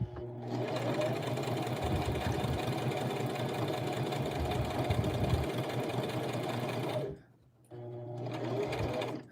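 Close, steady whirring of a Brother LX 3817 sewing machine running for about seven seconds, stopping briefly, then starting up again.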